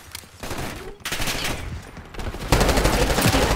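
Sustained automatic gunfire in Call of Duty Black Ops 6 multiplayer, loud and near, with a brief lull before bursts resume and grow heavier toward the end.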